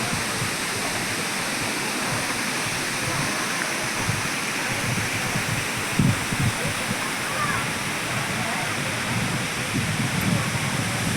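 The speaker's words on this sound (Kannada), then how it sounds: "ಇಷ್ಟು ಹೈಟಿಂದ ನೀರು ಬೀಳ್ತಾ ಇದೆ" A waterfall near Mullayanagiri drops from a great height into a deep forested gorge, roaring as a steady, dense broadband rush that stays constant from start to end, with faint voices and a few low thumps underneath.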